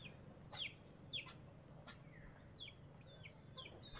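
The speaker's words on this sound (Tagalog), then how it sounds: "Ang dami nilang manok o." Several chickens call and cluck at a distance on a farm in Guinayangan, Quezon, Philippines, short chirpy notes scattered over steady outdoor background noise.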